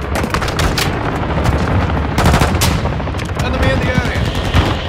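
Rapid bursts of automatic rifle fire and heavier booms crack continuously in a Call of Duty Invasion firefight, loud and dense, with shouted voices mixed faintly into the barrage.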